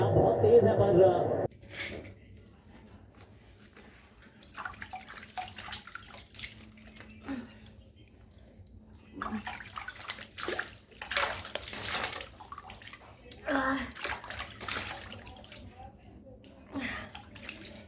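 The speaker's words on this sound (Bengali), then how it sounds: "এবার হাত পাটা ধুচ্ছি" Water runs and splashes in intermittent bursts as hands and feet are washed at night in a home, moderately close, with a voice talking over parts of it.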